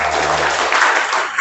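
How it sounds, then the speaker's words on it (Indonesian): Applause from attendees at a marriage guidance session in Indonesia, a short, loud burst of dense clapping with a low hum beneath. "Nek paham tepuk tangan dulu."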